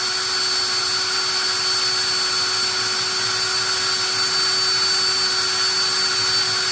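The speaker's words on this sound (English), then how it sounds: "I'll go to depth now and ream it out a little bit." A machine reams out a hole with a masonry bit, giving a steady, loud, whining drone with a sustained tonal hum that holds unchanged throughout.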